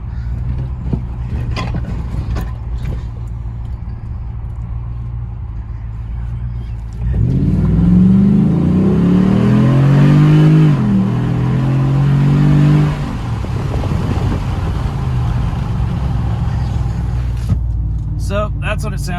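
A Ram 1500 pickup fitted with a K&N Blackhawk intake idles, then accelerates hard, its engine rising in pitch for several seconds before easing back, with talk in the background.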